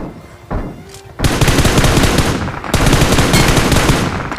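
Rapid bursts of automatic gunfire in the PUBG Mobile battle game, loud and close, starting with a couple of single shots and then sustained crackling volleys with no one talking.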